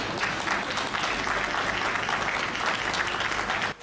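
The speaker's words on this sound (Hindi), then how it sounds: "मैं चाहता हूं उनके सम्मान में जोरदार तालियां हो।" Dense, steady applause from an audience at a Hindi poetry gathering, held for a guest being honoured, continuing evenly for several seconds before cutting off abruptly.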